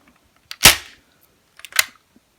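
A toy Nerf blaster modded to fire Boomco darts gives two sharp, close snapping shots about a second apart, each with a short rattling tail, in a quiet room.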